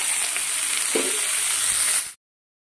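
Pumpkin pieces tossed onto onions browning in oil in a wok: a loud, steady frying hiss with one brief soft thud partway through, cut off abruptly.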